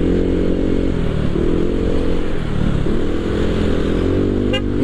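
A bored-up Honda PCX 160 scooter accelerates at full throttle, its engine droning loud and steady with a rising, slightly wavering pitch, plus a brief high chirp near the end.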